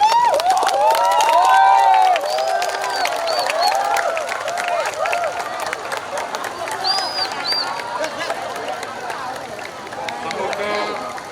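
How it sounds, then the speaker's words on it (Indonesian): Dense, sustained applause from a crowd at an Indonesian Independence Day ceremony in Dukuhseti, Pati, with scattered shouts and voices mixed in, strongest at the start and easing slightly over time. "Tepuk tangan."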